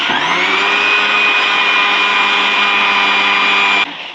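An electric blender grinding tamarind and plum pulp in a blending jug, a loud, steady high-pitched motor whine running continuously and cutting off abruptly at the end.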